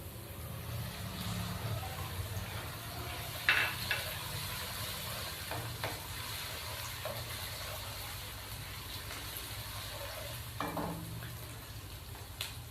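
Ginger garlic paste fries with browned onions in a pan, a steady soft sizzle with occasional stirring scrapes and clinks, fairly quiet and with no talking.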